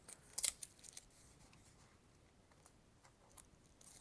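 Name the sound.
sticker being peeled off an 8BitDo Xbox media remote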